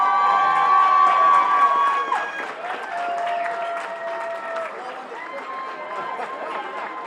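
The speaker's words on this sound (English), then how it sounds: "Give her a big round of applause." Cheering and clapping rise from the crowd at a New York State Boxing Hall of Fame induction as a woman inductee comes up, with whistles and shouted voices over the applause, which eases slightly after the first couple of seconds.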